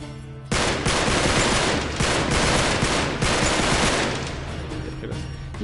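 Rapid, sustained AK rifle fire in the Uncharted 3 video game, loud dense bursts running continuously for several seconds, slightly easing toward the end.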